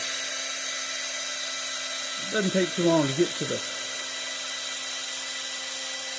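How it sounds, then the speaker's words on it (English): A rotary tool grinds and sands a tire in a short, gritty, whirring burst of about a second, set against a steady mechanical hum while a person talks. "you just keep at it, keep sanding, keep grinding"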